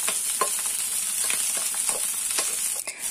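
Cooked rice is stirred into a hot pan with egg and carrot, giving a steady sizzle broken by repeated scraping strokes of the spatula, close and fairly loud with no talking.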